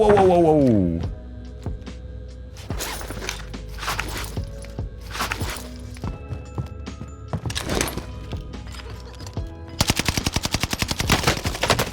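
MP40 submachine gun fire in Call of Duty on Rebirth Island, sharp rapid bursts scattered among isolated shots and footsteps, ending in a long sustained burst of fire, with voices talking between.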